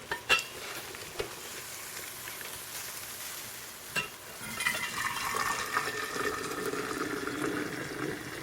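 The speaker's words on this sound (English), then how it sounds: "we're going to try to put some water in here," Water poured through a funnel into a Yeti Rambler 64 oz bottle, a steady splashing, filling rush building after a few faint knocks and clatters at the start, close and alone.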